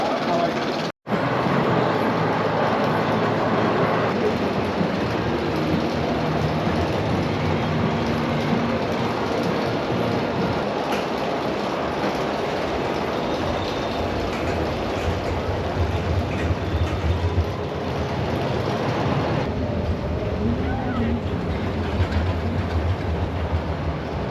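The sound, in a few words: PortAventura mine train roller coaster ride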